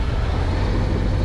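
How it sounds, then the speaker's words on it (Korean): Engine and exhaust of a 2021 Harley-Davidson Road Glide Limited heard while riding, a loud, steady low rumble mixed with road and wind noise over a brief moment, with no talk. "그 엔진의 소리, 배기음 자체도 뭔가 전처럼 우당탕탕 되는 그 소리보다는 확실히 정제된 사운드를 들려줘서"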